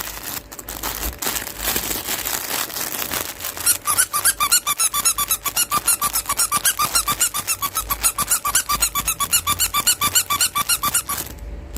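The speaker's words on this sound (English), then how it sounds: "And it squeaks like this, and your dog comes." A plush potato-shaped dog toy is squeezed over and over, giving loud, close, rapid rubbery squeaks in a steady rhythm, after some crinkling handling at the start.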